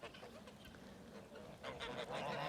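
Geese honk on a goose farm, a chorus of nasal calls from several birds at moderate distance, getting louder and busier toward the end.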